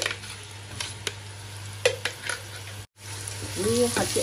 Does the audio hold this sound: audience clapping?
no